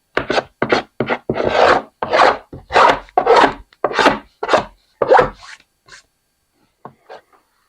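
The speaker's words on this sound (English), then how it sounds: "the quickest way to clean up these boards is just a couple of quick passes with a paint scraper" Paint scraper dragged in quick, rasping strokes across rough scrap lumber boards, about a dozen loud close passes in a steady rhythm before tapering off to a few faint scrapes.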